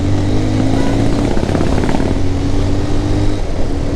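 A motorcycle engine drones steadily throughout, a loud continuous mechanical hum with wind noise, recorded while riding along a mountain road between Kodaikanal and Munnar.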